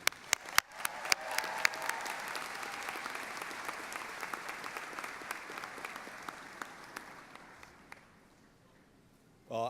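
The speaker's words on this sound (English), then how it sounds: "Please welcome the 2018 commencement speaker, Al Wilson." An audience at a 2018 commencement ceremony applauds a speaker, a sustained, dense wave of clapping with a few cheers that holds steady for most of the stretch and then fades out.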